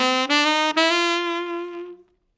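An ascending jazz line is played with only the offbeats articulated, a bright sustained tone broken by two sharp tongued attacks before a long held note fades out.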